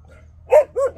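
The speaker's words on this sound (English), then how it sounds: "Dogs are trailing off in a second." Two or three short barks from dogs outdoors in Thailand, sounding fairly close over a quiet low hum, spaced irregularly within about a second.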